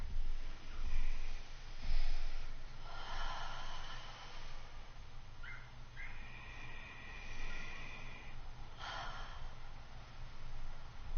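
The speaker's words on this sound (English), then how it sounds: "let's just take a couple of nice deep breaths together" A guided meditation group takes slow, deep breaths together: several long, airy inhales and exhales rise and fall over a quiet background, with no talking.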